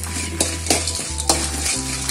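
Coriander, dried chili and cumin are dry-roasted in a pan for Kerala-style mutton varattiyathu. A steady low hum runs under four or five sharp scraping stir strokes, close and fairly loud, with no talking.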